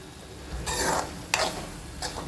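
Masala for a fresh field bean dish cooks in a pan with a steady low sizzle, broken by three bursts of spatula stirring and scraping, close and fairly quiet, with no talk.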